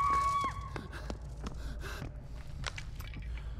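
A survivor character in the Dead by Daylight video game pants and gasps in short, breathy bursts over quiet game ambience. A brief tone sounds at the start.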